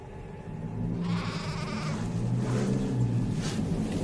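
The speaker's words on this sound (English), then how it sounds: "Now Abel was a keeper of sheep" A sheep bleats, a drawn-out wavering cry or two standing out over a steady outdoor background, fairly close and moderately loud.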